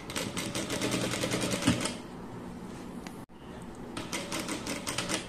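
A domestic sewing machine runs in steady rapid bursts while stitching fabric, pausing briefly with the needle down before resuming, close and fairly quiet.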